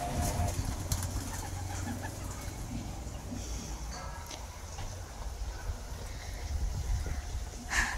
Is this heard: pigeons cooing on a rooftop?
yes